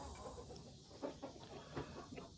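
Hens inside a chicken coop with nesting boxes give soft, scattered clucks and low murmurs over a quiet background hum, with no voices.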